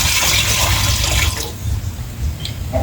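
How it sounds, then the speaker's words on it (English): Water poured into a pot set over an open cooking fire in an African village, a loud steady splashing rush that fades after a second and a half into a quieter trickle. "So I'm going to pour here water"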